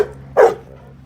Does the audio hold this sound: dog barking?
yes